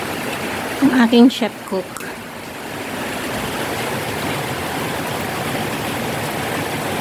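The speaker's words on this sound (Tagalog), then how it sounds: "Yan oh, sarap ng kulo niya oh." Ginataang palaka, frog in coconut milk, boils in a pot with a steady bubbling hiss that runs on after a brief spoken line near the start.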